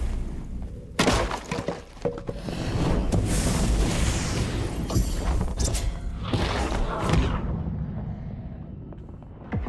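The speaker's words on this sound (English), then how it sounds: "That explosion was the skeletal mage." An explosion set off by a skeletal mage in the dark-fantasy game Dark and Darker: a sudden loud boom with shattering debris, followed by several seconds of rumbling crashes and impacts before fading.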